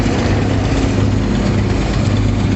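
Tractor engine running steadily while bagging a field, a loud continuous low drone with constant rumble and no pauses.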